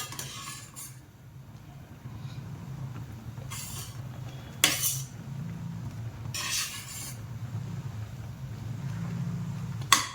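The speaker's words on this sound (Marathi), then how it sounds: "हे सारखं असं हलवत राहायचंय जरा याला" A spoon scrapes and stirs carrot halwa cooking in milk inside a pot in several short, rasping bursts over a low steady hum, with brief metallic clinks near the end.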